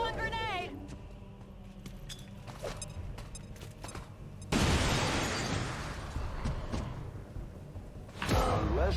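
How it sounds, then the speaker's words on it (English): A grenade blast in XCOM 2 lands as a sudden broad roar mid-clip, followed by a second burst near the end, amid other in-game battle effects and character voices. "Throwing grenade!"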